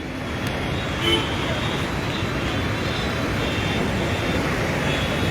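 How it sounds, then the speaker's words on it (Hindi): Road traffic streaming past a police checkpoint in Jammu, a dense continuous roar of passing vehicles with a faint horn toot, steady and fairly close. "स्मूथली जो है ट्रैफिक यहाँ से पास होती है"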